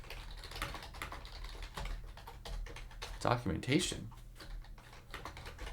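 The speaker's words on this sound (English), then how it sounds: "I'm gonna have to type your name out manually" Someone types a name by hand on a computer keyboard, with soft irregular clicks of keys under ongoing talk and a brief cluster of louder taps partway through.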